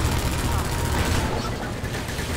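Dense, continuous gunfire in the Half-Life 2 video game, a loud sustained burst that fills the whole stretch with little pause, easing slightly toward the end.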